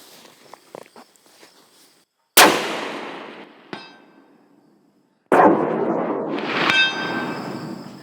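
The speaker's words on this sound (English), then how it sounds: "we're going to go ahead and take that shot at 455 yards, and hopefully we get a first round hit" Rifle shots fired at a long-range target 455 yards away, two sharp loud cracks each trailing into a long rolling echo, with a faint metallic ring between them and soft handling noises before.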